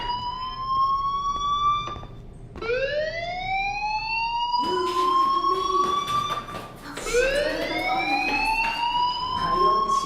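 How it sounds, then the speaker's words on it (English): A fire alarm rings in the video game Life Is Strange, sounding loud, repeated rising electronic wails that sweep upward again and again with no talking over them. "do you hear that fire alarm?"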